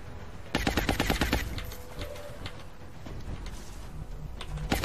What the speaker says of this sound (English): it's a laser pistol shot